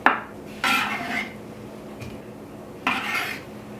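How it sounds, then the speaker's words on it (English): A knife clinks against a bowl while hard-boiled eggs are cut into bite-sized pieces, three separate bursts of scraping and tapping, close and moderately loud, with quiet gaps between. "And just cut these up into bite-sized pieces as well."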